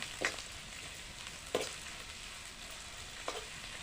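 Two onions frying in oil for a raw pigeon pea curry, a soft steady sizzle with three brief scraping stirs spaced about a second and a half apart, quiet and close.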